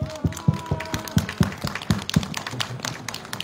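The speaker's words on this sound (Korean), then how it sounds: "박수 한번 칩시다" A rally crowd at a candlelight protest against the THAAD deployment in Gimcheon, heard as a short burst of sparse, rhythmic hand claps that thin out toward the end, close and moderately loud.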